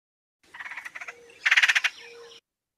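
A short trilled call resembling a gray tree frog, heard in the woods as two pulsed bursts with the second louder. It is close and clear, with no talk.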